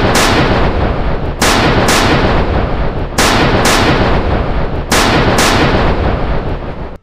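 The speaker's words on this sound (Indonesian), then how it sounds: "Mereka pun mulai menembaki para monster itu." Loud, heavy gunfire sound effect of shooting at monsters, booming shots in rapid sustained bursts separated by short gaps, close and dominant with no voices.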